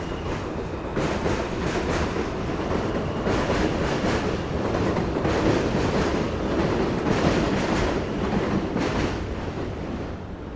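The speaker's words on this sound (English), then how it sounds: "So this train here, the J and Z trains, lead to Jamaica on the Queens side" An elevated J/Z subway train in Williamsburg, Brooklyn, New York City roars past nearby with rhythmic clickety-clack from the wheels, loud and continuous for several seconds.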